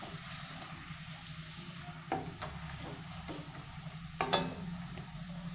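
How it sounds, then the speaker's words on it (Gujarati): Two small onions sautéing in hot oil in a pan as a Gujarati ringan bharthu is made, giving a low steady sizzle with occasional stirring scrapes and brief louder spits, heard alone and fairly quiet. "તો હવે અહીંયા આપણે લઈશું મીડિયમ સાઇઝની 2 નાની ડુંગળી, જેને આપણે સારી રીતના સાતરી લઈશું"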